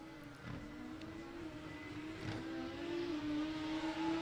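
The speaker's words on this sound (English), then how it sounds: "Jason, of course, running an NA setup there in the left-hand lane." Drag racing cars, one naturally aspirated and one turbocharged, accelerate down the strip at a test-and-tune event. The engines make a fairly faint, rising whine that builds steadily over a few seconds from a distance, with no voices.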